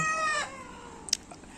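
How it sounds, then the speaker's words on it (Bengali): An egg-laying hen on a rooftop gives a drawn-out, close clucking call at the start. It then falls quiet except for one brief sharp sound partway through. "এটি আমার ডিম পাড়া মুরগি।"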